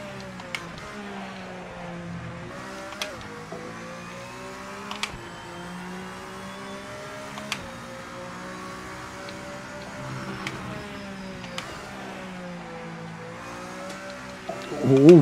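A Peugeot car engine in a racing video game hums and whirs with shifting tones, punctuated by sharp clicks and ticks, and rises into a louder rev at the very end.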